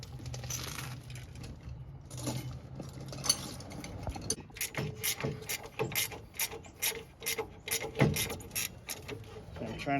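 A ratchet clicks away at a seized ball joint nut on a 2003 vehicle while the stud spins, giving bursts of rapid metallic pawl ticking and clanks, close and fairly loud, with a few stops in between.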